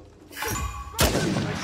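Two sharp gunshots from the Uncharted 4 video game, a first crack followed about half a second later by a louder, brighter blast with a ringing tail.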